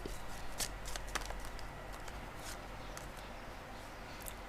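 Tarot cards being shuffled and drawn by hand, a quiet close riffling and flicking of cards in short soft bursts over a faint hum.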